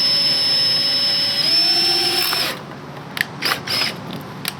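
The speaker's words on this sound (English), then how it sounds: "I need to drill actually a hole right down here on this little tab guy" Power drill boring a hole through a small carbon fiber tab on a BMW F82 M4, a steady high whine for about two and a half seconds that stops abruptly, followed by a few quieter clicks and handling noises.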